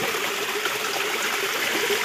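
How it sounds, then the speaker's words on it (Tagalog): Water falling and flowing down a rocky waterfall: a steady, close, hissing rush with no break and no voices. "Babagsak yung tubig."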